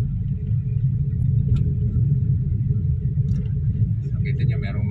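A Suzuki S-Presso climbs a cracked, uneven road in second gear, its engine a steady close low rumble throughout, with scattered faint knocks and rattles from the rough surface.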